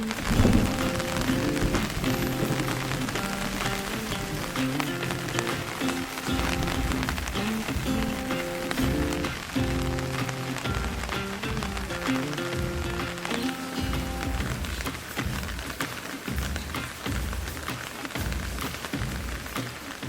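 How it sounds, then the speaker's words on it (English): Steady rain pours onto a hard surface, a dense continuous patter that stays loud and unbroken throughout, with low rumbling tones mixed beneath the downpour. "That rain lasted for quite a few hours"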